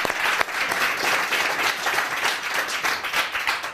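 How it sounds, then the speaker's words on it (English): Studio audience applauding on a live television chat show: loud, dense and continuous clapping that swells and holds for several seconds. "Let's give them a round of applause."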